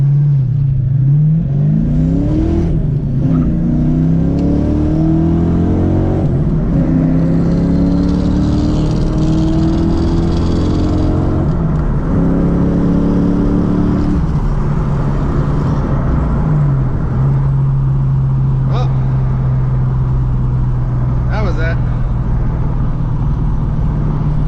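A budget Ford Foxbody accelerating hard on the street, engine note climbing through repeated rising revs and gear shifts, loud and close from inside the car with the window down, then settling to a steady drone.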